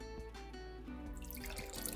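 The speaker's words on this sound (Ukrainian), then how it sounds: "Тепер цією заливкою полю голубці." A liquid sauce of water, sour cream, mayonnaise and ketchup is poured over cabbage rolls in a baking dish, a soft close trickle and splash lasting two seconds.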